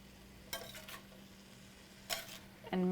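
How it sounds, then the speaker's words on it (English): Vegetables for fried rice being stirred in a hot pan with soy sauce and fish sauce, giving a few short scraping, sizzling bursts over a quiet background, then a louder ringing clank of utensil on pan at the end. "I'm going to give it a really good stir, make sure it's all well"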